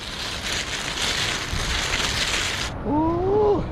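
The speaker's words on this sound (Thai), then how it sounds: "คือฝนที่ตกนี่แหละนะครับ" Rain falls outdoors as a steady, dense hiss that cuts off abruptly after under three seconds, followed by a brief tonal chirping sound.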